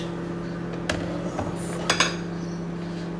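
Dishes and cutlery clink and clatter while being washed, a few sharp metallic and ceramic knocks at irregular moments over a steady background hum.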